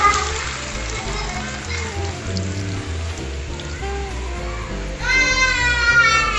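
Coconut milk boiling with cassava in a pot, a steady close bubbling sizzle that runs throughout and swells louder near the end, with faint background voices.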